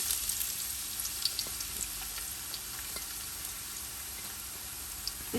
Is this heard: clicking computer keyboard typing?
no